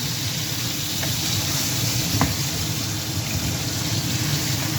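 Steady sizzling of fish frying in a pan, a continuous crackling hiss at even loudness throughout, with no voices.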